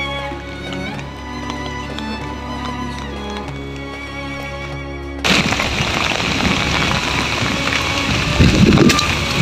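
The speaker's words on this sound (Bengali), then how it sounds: "বৃষ্টিও যেমন ঝড়ও তেমন" Heavy rain and gusting wind from a cyclone storm roar as a dense, loud wash, joining abruptly midway after a steadier tonal stretch, with surges of noise near the end.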